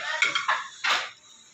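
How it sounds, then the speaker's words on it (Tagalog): Pork ribs for sinigang, over a kilo with tomato, ginger, garlic and onion, are stirred in a large cooking pot, giving two or three brief scraping clatters of utensil against metal, close and fairly loud, with no talk. "Haloin ko muna"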